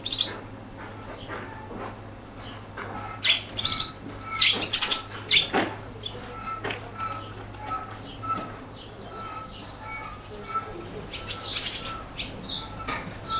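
Swallow fledglings that have just left the nest flap their wings in several quick bursts and give short high chirps nearby, with quieter stretches of rustling and calls in between.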